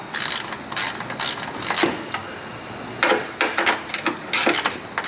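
A hand ratchet snugs down 10mm battery hold-down bolts on a Toyota Highlander, its pawl clicking close by in quick irregular bursts, with short pauses between strokes.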